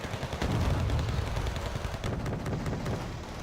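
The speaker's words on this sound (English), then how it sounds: "Oh, gets the first shot off on the T90." Leopard 2A5 tank cannon firing at a T-90 in a combat video game: a dense, booming blast with rumbling gunfire texture that fills the whole short stretch, loud and without talk.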